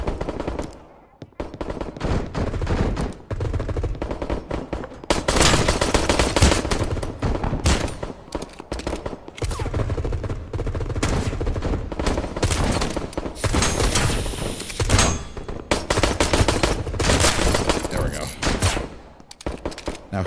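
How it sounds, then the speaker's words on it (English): Heavy gunfire in the game Hole, including shotgun blasts, comes in dense bursts and volleys that rattle on through most of the stretch, loud and close. "Now, who's shooting at me with a shotgun?"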